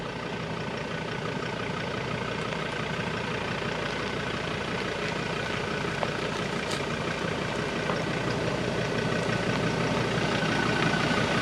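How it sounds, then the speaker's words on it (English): Riley's car idles at a riverside camping spot in Dwellingup while it is backed up. The engine gives a continuous, even rumble at moderate volume, close by and without a break, with no talking. "we're going to take Riley's car down, back up the car"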